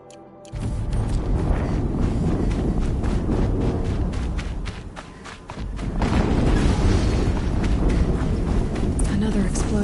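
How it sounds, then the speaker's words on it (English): Another explosion in Horizon Zero Dawn booms over constant battle clatter and thudding mechanical game noise, easing briefly in the middle before a loud renewed surge carries through to the end. "Another explosion."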